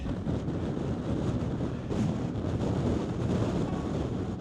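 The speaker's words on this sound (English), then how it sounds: "It's really, really windy." Steady, heavy wind on a Lake District fell summit blasts across the microphone in a continuous low roar, with no voices, only slight surges in strength.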